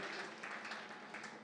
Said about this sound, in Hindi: ये तालियां 10 गुना कर दो